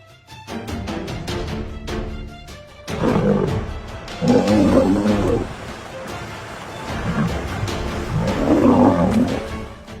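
Lions roaring in the wild, set near a river where a hippopotamus swims toward them; deep, drawn-out roars come in two loud bursts, after some clicking noise at the start.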